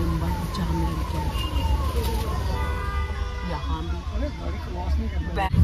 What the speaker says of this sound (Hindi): हम तो यहीं पे ट्रैफिक में फंस गए, देखो कितना लंबा जाम लग गया।